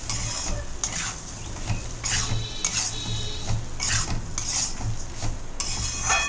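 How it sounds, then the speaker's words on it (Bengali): A metal spoon stirs rice with turmeric and salt in a pot, giving repeated scraping clinks in an irregular rhythm, close and clear with no talking. "ভালো করে নেড়ে নিতে হবে।"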